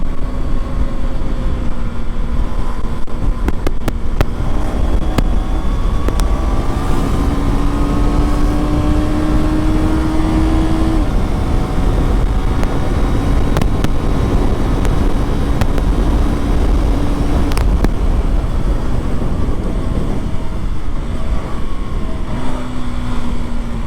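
A KTM Duke 250 Gen 3 motorcycle being ridden with a quickshifter, its engine note rising and dropping through several quick gear changes over steady loud wind and road rush, with no talking.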